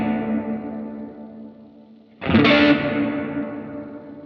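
An electric guitar runs through a Line 6 Helix dynamic room reverb: one chord fades away in a smooth room tail, then a second, louder strum rings out and decays in the same ambience.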